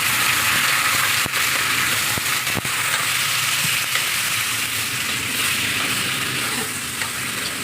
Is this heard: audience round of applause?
no